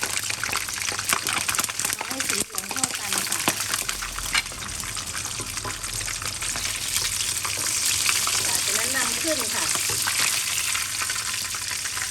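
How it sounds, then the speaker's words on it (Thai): Pomfret fish fries in hot oil over medium heat, a dense, loud, continuous sizzle with bubbling crackle and occasional scraping stirs, heard up close throughout. "ตั้งน้ำมันให้ร้อนค่ะ ปลาลงทอดเลยค่ะ ทอดไฟกลางค่ะ"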